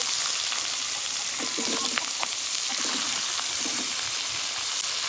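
Cut eggplant pieces frying in hot oil in a home kitchen, a steady close sizzle with small crackles and pops and occasional stirring noises.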